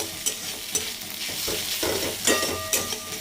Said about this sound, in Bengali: পোস্ত দিয়ে চিচিঙে আর পেঁয়াজ ভাজা